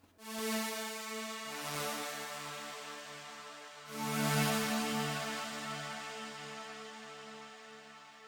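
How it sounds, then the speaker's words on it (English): A lush synth pad from a Spire preset in FL Studio sustains wide, bright chords, swelling in and then changing to a second chord midway, held alone and steady throughout. "Starting with the pads, I am using the VST Spire and a preset that sounds like this."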